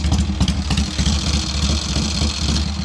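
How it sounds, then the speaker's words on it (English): A fully rebuilt 1953 Triumph 650 pre-unit chopper motorcycle engine with an iron head idles close by with a steady, low, lumpy throb, running evenly throughout with no revving. "Really nice, smooth sounding engine with that iron head, insulates all the sound."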